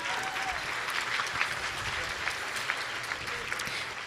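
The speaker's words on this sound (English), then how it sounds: "let's give them a round of applause." Steady applause from a conference lunch plenary audience, a dense even patter of many hands clapping in a large room, sustained at moderate level throughout without talk over it.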